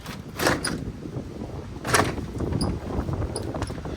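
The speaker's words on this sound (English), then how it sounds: "This door's hard to open." A stiff old door of an abandoned 1850s stone farmhouse is forced open, with two scraping, grinding bursts and a few small clicks and creaks in between.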